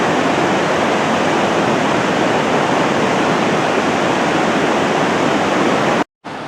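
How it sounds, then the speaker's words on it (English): Sandstone Falls on the New River in West Virginia roars as a loud, constant wash of falling water, close and unbroken, with a brief cut to silence near the end. "Sandstone Falls on the New River, West Virginia."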